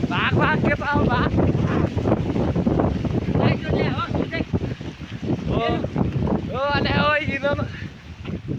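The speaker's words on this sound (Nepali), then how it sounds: "लास्टै ठुलो हावा आइरहेको छ" Strong wind blows beside a river, a loud continuous buffeting rumble across the microphone while people talk over it throughout.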